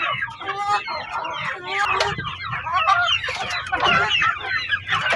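Several backyard chickens cluck and squawk together in a busy, close chorus that continues throughout.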